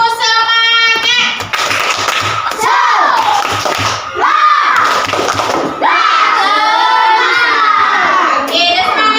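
Classroom of children doing a rhythmic spirit cheer clap, loud patterned clapping broken by excited group shouting and chanting voices, close and energetic.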